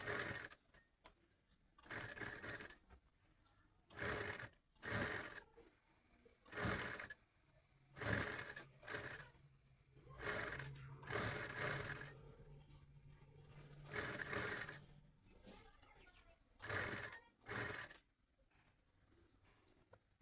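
A sewing machine stitches cloth for a drawstring potli bag in short, quiet whirring bursts separated by pauses, each run a second or so, heard close with no talk.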